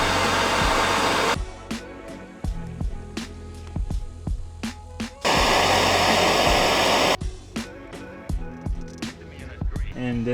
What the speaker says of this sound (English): basically heat up the connector with a torch, and that'll melt the solder